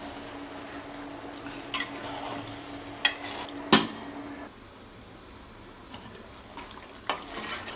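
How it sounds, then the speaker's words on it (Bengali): Beef curry is stirred in a covered pot after the lid is lifted, with a faint simmering hiss under sharp metallic clanks of lid and spoon against the pot, scattered across the quiet background. "এবার একটু ঢাকনাটা উঠিয়ে নেড়ে দেব।"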